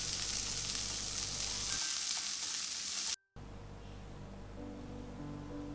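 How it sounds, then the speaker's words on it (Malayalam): Chopped shallots and halved dried red chillies fry in hot coconut oil for a Kerala sadya ginger curry, giving a loud, steady sizzle with a brief cut partway through. "നല്ലതുപോലെ വറുത്തെടുക്കണം. നല്ലൊരു ഗോൾഡൻ കളർ ആകുന്നവരെ വറുത്തെടുക്കണം."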